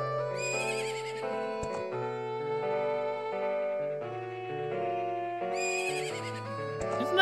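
Epona, the horse in Zelda: Majora's Mask 3D, whinnies loudly over a bright, tuneful game melody that plays throughout, with a second neigh rising near the end.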